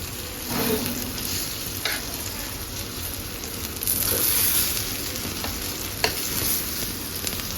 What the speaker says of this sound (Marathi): आता आणखी याला एक पलटी मारूया.